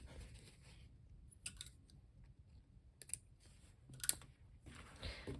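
Scissors trim loose thread ends on a sewn mini Popper backpack, giving a few quiet, sharp snips and clicks spaced across a hushed room with no talking.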